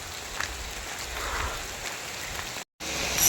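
Rain falls steadily beside a river near a temple, a constant soft hiss of drops with a short silent gap near the end and no voices.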